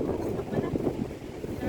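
Strong wind buffets the microphone at a beach outing, a loud, continuous rushing roar with no speech over it.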